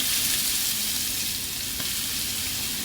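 Ginger and garlic fry in hot oil for a cauliflower masala, making a dense, continuous hiss of sizzling that stays loud and even throughout, with no talking.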